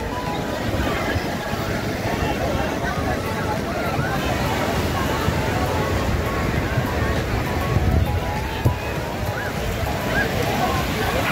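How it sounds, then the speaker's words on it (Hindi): Sea waves roll in at Calangute Beach in Goa, a continuous loud wash of surf mixed with gusty wind rumbling across the microphone throughout. "लहरों के पास चलते हैं, समुद्र की आवाज़ सुनते हैं"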